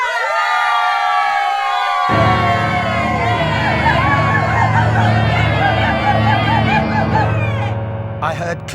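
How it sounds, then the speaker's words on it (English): Crowd clapping and cheering in a dramatized audio production, a loud, dense roar of many voices and hands swelling in after a quiet start and holding steady, with music-like tones mixed in. "I heard clapping and cheering"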